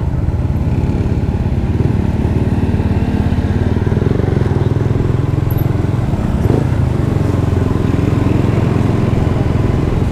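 A Yamaha Vixion motorcycle rides along with a loud, steady engine drone and rumbling wind noise that holds constant throughout, close to the rider.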